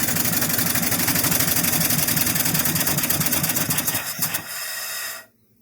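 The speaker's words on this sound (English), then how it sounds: "Fully operational, hand-built engine." A small hand-built steam engine chugs rapidly and steadily with a rhythmic mechanical beat, then winds down and stops near the end.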